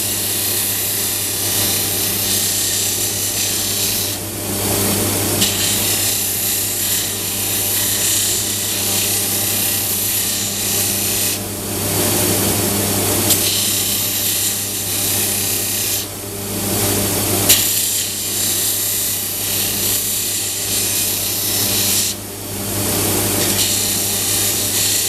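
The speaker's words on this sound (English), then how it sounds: "I can bring it down more with the sander" A power sander grinds a pen blank down toward round, a loud, steady abrasive whir with a constant motor drone, briefly dipping in intensity every few seconds as the piece is lifted and repositioned.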